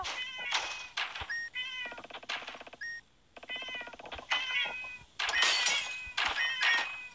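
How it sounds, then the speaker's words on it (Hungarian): A cat meows over and over in a video game, the calls close and loud, some drawn into whining caterwauls, broken by short pauses and a few knocks. "De ez a nyávogás, ez nagyon idegesít már."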